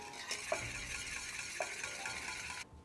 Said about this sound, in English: Let's get that whisk back out.